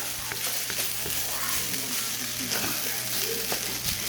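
Eggs fry for pork and egg fried rice, a dense, steady sizzle close up with occasional soft scrapes from stirring, continuous and fairly loud throughout.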